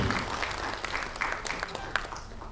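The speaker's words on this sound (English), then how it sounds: "Ladies and gentlemen, a big round of applause." Audience applause at an Ambedkar Jayanti event as the Bhim Sandesh 2023 cover is released, a steady wash of many hands clapping with scattered sharper claps, fairly close and loud, with voices mixed in.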